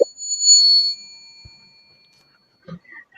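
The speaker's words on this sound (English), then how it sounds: "the bell that you heard just now is actually a time limit bell" A time limit bell gives a single bright ding that rings out and fades over about a second, followed by a few faint clicks and soft knocks in near silence.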